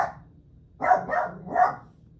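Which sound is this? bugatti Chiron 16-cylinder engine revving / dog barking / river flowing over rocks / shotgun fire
dog barking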